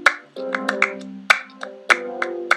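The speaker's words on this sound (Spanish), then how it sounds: "aquí, los hi-hats del trap se convierten en palmas" Handclaps stand in for trap hi-hats in a song: sharp, crisp claps land in an uneven syncopated pattern over sustained melodic notes and a low bass line.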